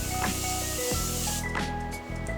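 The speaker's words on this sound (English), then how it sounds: "I'm going to use this Morphe Continuous Prep and Set Mist, and I'm gonna just spray my face" Morphe Continuous Prep and Set Mist hisses in a continuous fine spray onto a face, close and fairly loud, with no talking.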